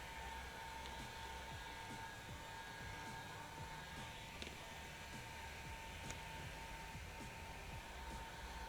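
Heat gun warming decal glue on a vintage truck camper exterior: a constant, close, blowing whir with a steady hum, unchanging throughout.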